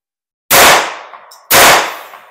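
Two loud, sharp gunshots from a Beretta 950BS pistol firing .22 short at a shooting range, about one second apart, each with a decaying echo tail, up close and without talk.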